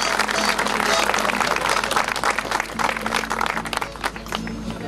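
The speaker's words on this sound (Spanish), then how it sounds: "Fuerte aplauso al dueño de casa, que es un hombre que siempre también ha estado comprometido con los guasos." Outdoor crowd at a cabalgata horseback gathering in San Nicolás applauds the host, a dense, sustained wash of clapping with a voice speaking over it throughout.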